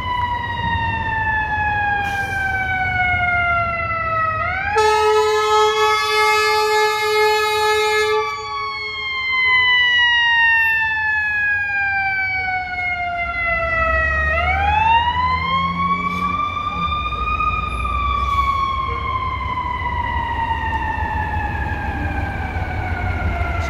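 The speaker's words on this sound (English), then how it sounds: "ambulance 44 from the fire department is responding to an emergency" A loud fire department ambulance siren wails up and down in long sweeping cycles in downtown Chicago, switching briefly to a rapid yelp, with traffic rumbling underneath.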